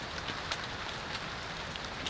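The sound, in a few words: rain falling on a hot tent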